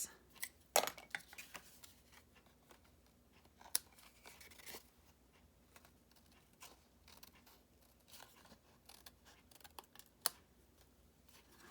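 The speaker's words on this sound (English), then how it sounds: "let's trim those edges" Scissors trim paper edges at a craft table with quiet, scattered snips and crisp clicks spread across a hushed room, a few sharper cuts standing out above faint rustling.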